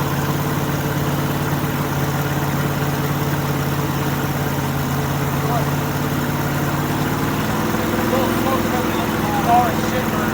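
A 521 cubic inch big block engine running steadily on its first start, a loud, continuous close rumble held at a fast idle throughout.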